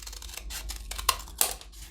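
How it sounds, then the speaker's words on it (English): Paper is snipped with scissors while making a holiday ornament, a string of short crisp cuts close up with a few sharper snaps, no voices. "I'm going to take my scissors"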